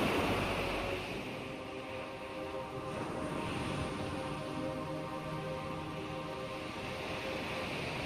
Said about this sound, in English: the boat was rolled by larger waves